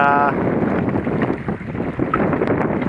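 A sailboat tacks toward shore in light southeast wind of about 5 knots on the Gulf of Mexico during the Everglades Challenge. Steady wind rush buffets the microphone over a wash of water and hull noise.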